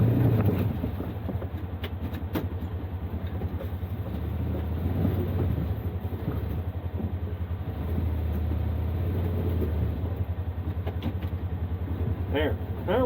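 A side-by-side UTV grinding through snow in 4-wheel drive on a first winter ride, its engine droning steadily up close while people talk over it the whole time.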